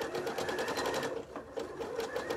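A sewing machine runs a zigzag stitch at a steady, rapid rhythm, close and continuous with no talking.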